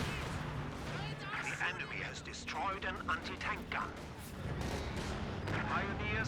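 Rocket artillery barrage from a Katyusha launcher in the Company of Heroes 2 strategy game, a dense stream of booming impacts and crackling blasts over low rumble, with commentators talking over the fire throughout.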